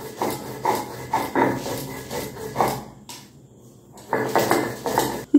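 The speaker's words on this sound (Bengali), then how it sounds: "এবারে সব কিছু দিয়ে খুব ভালো করে বেটে নিতে হবে।" Mustard, green chilies and boiled jackfruit seeds being ground into paste, with rhythmic scraping and rubbing strokes of stone on stone in a steady back-and-forth pattern, pausing briefly before resuming.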